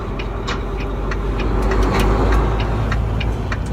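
A 2012 Volvo 780 truck cruises down the road, a steady low diesel rumble with road noise and scattered light rattles and clicks from the cab, continuous and close with no talking.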